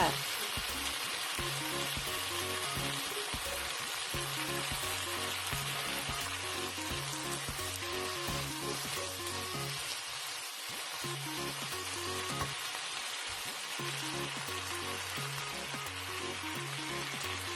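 Steady, dense sizzling of squid and chicken stir-frying in a hot pan, continuous and close, with faint rhythmic scraping underneath.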